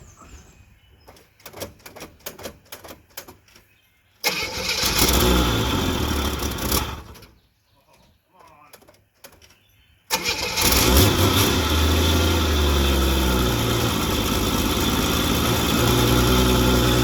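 A 1970 Chevy Camaro with a Powerglide transmission, running for the first time in 23 years, cranks with a rapid starter chatter, catches and roars, drops away briefly, then fires again into a loud, sustained rev.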